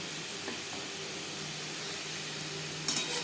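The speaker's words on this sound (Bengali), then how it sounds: "3-4 মিনিট হাই টু মিডিয়াম ফ্লেমে মাছ ভেজে নেব।" Prawns fry in a pan over a high to medium flame, giving a steady close sizzle and hiss with a few light clinks of stirring near the end and no talk.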